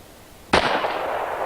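A single sharp report from a .45 Colt revolver firing a factory load with a 250-grain lead bullet, one loud close blast with a lingering outdoor echo tail, no talk.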